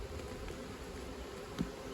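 Honey bees hum in a steady, continuous drone at an opened hive during a requeening check, the buzz filling the whole stretch with a brief louder swell near the end.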